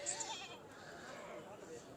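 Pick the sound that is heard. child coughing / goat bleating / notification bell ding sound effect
goat bleating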